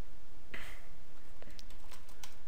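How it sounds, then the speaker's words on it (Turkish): Keys are tapped on a computer keyboard while a Minecraft command is typed, giving a few quick, close clicks spread across a couple of seconds over a faint background hiss. "Şimdi oyunumda slash reload yazıyorum."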